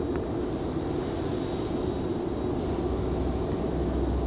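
A light propeller airplane from a line of Piper flight-school planes departs Raleigh Durham airport, its engine a steady, distant drone that holds level throughout.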